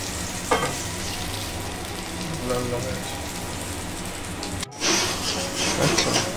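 Spiced tomato masala for a Bengali dhoka curry sizzles steadily in hot oil, a continuous crackling hiss with occasional stirring scrapes, and it grows louder toward the end.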